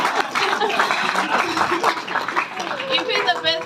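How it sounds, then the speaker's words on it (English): Applause and clapping from an audience at a stage event, a dense steady patter mixed with crowd murmur and scattered voices throughout. "Yeah, thank you. Clap again."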